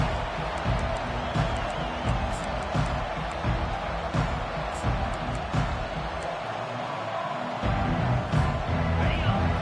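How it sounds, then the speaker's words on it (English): Dense stadium crowd roar from a Madden football video game, a steady loud wash of cheering with scattered whoops and bursts, after a kickoff touchback, continuing throughout with no clear break. "This crowd bringing an ear-splitting welcome to their visitors."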